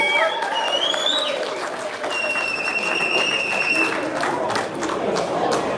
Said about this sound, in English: Give them both a round of applause. Let's hear some whistles.